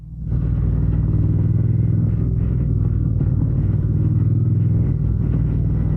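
A Triumph Speed Twin 1200 RS motorcycle rides through dense traffic, its engine a loud, steady low rumble that holds unbroken from start to end, with no talk.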